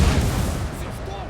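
Gunfire and grenade blasts roll across a smoky mountain battle in the Napoleon: Total War video game, a dense, loud layer of musketry and booming explosions without a break.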